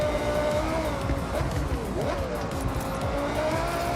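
Car engine from the hood camera in Forza Horizon 6, a steady loud roar with shifting revs and tire squeal sliding up and down in pitch, with a voice talking underneath.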